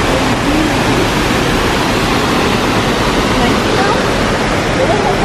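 Steady, dense roar of rushing water, loud and unbroken throughout, from the Cachoeira do Mutum waterfall close by in Bonito, Brazil.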